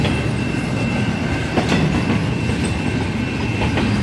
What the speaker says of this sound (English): The train's bouncing up and down.